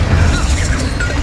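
A Descendo spell slamming home in Hogwarts Legacy, a short, loud, booming impact filling about a second with dense low rumble.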